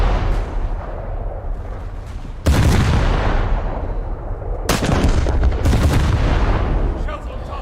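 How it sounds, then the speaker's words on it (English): Naval guns on a ship fire at an enemy vessel in a video game: three loud, booming blasts with heavy low rumble, spaced a couple of seconds apart over continuous background noise. "I just need to hit the rear of his ship, Correct hit. close to the rear turret."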